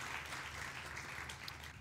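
Continuous applause from a crowd, a steady wash of clapping that stays even throughout, somewhat distant and soft.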